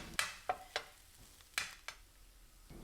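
Corned beef hash spread out in a pan crackles quietly as it fries, with a few sharp scrapes and taps of a utensil against the pan at irregular intervals and no talk.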